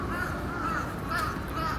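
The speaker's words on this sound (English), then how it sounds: "Crows in Japan." Crows caw in Japan, several harsh repeated calls in a steady rhythm over continuous outdoor background noise, moderately near.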